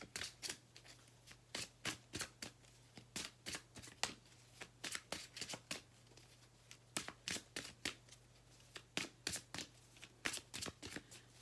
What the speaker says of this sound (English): First, I'm going to pull a card for your partner.